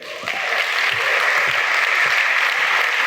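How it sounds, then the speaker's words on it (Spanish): A church congregation claps for the King during a sermon, a full, sustained burst of applause filling the room at steady loudness with little else heard. "Dale un aplauso al Rey"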